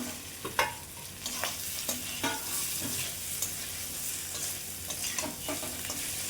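Fried bitter gourd and potato with green chilli and ginger get stirred in a sizzling pan, a steady hiss of frying broken by repeated scrapes and taps of the spatula.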